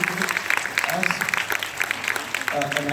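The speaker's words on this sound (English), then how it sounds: "I think they deserve a special round of applause for coming out." An audience at a public debate applauds, a dense, steady patter of clapping that fills the room throughout while a voice talks over it.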